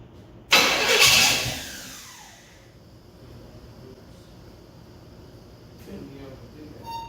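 A 1966 Pontiac Catalina wagon engine cranks and catches with a loud, sudden burst, revs briefly, then settles and fades toward a quiet idle over several seconds before a faint second rise.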